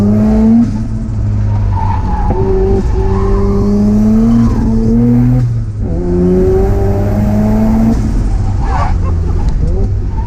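A 430hp single-turbo Mazda FD RX-7 on a race track, its tires skidding and squealing in long wavering tones over the loud steady drone of the engine, with a driver's voice audible.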